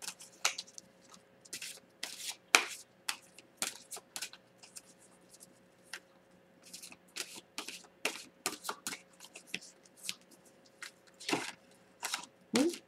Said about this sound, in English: These cards are always fun to shuffle.